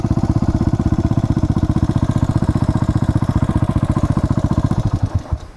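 A Yamaha Bobber motorcycle engine runs steadily while riding, a loud, close, rapid single-cylinder-style putter that slows and fades near the end.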